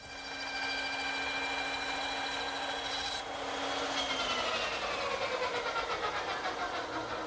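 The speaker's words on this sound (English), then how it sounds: "I think this little dovetailing saw is more accurate." A small hand dovetail saw cuts tenon shoulders in wood for a console table, making a steady, close rasping stroke sound that runs continuously and without talk.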